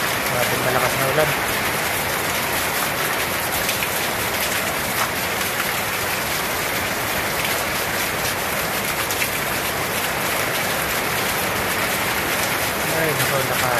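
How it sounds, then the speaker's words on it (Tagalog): Torrential rain falls in a constant, close, roaring hiss that never lets up, with a person talking softly at points under the noise. "Grabe malakas na ulan."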